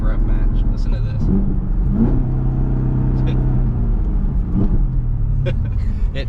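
A Dodge Challenger Hellcat engine automatically rev-matching its gear changes, heard as a steady close engine drone with brief rising blips between shifts, under continuous cabin rumble.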